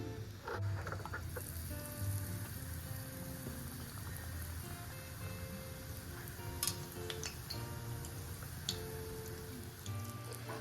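Chili fritters dipped in batter fry in hot oil, giving a faint, steady crackling sizzle with scattered small pops, and no talking.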